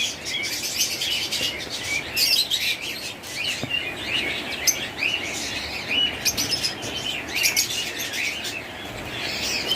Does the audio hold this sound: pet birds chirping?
yes